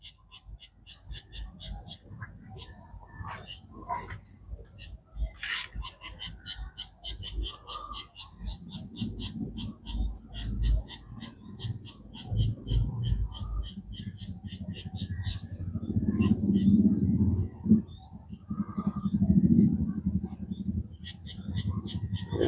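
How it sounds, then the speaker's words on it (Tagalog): Noisy birds chirp and tweet continuously on a farm near a goat pen, their calls high and dense throughout, with a person talking intermittently underneath. "Yan ang mga ibon dyan ang ingay."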